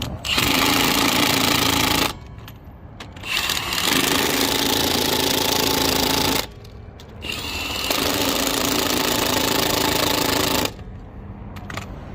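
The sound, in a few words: cordless impact wrench tightening lug nuts on Ram truck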